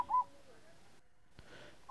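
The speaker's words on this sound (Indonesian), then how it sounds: "Pagi ini saya tertarik mendengar suara perkutut yang tiba-tiba muncul dan terdengar di telinga saya." A wild zebra dove (perkutut) calls from the tiles of a house roof. A short, faint coo opens the clip and another begins right at the end, with quiet background between them.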